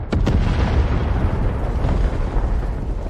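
A loud, sustained AI-generated explosion rumble with sharp bursts near the start, deep booming roar continuing throughout without any voices.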